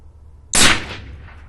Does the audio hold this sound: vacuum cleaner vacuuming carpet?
no